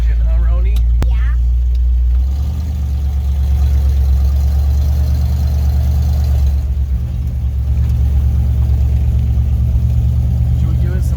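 A 1978 Ford F-150 pickup engine rumbles low and steady while driving, with a brief rev partway through, heard from inside the cab.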